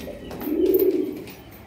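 A black high-flying pigeon gives a single soft, rolling coo, close and moderately quiet over faint background noise.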